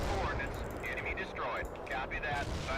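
Cannon fire from a unit in the real-time strategy game World in Conflict: Soviet Assault, heard as a continuous barrage of loud gunfire with crackling impacts, under a speaking voice throughout.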